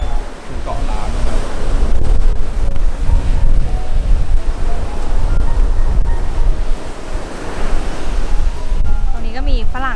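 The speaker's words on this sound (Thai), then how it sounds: "ให้ฟังคลื่นดีกว่าฟังเสียงคลื่น ฟังเสียงคลื่น" Strong surf pounds a beach near Koh Lan under stormy conditions, with gusting wind buffeting the microphone; a steady, loud roar of breaking waves and wind noise fills the scene continuously.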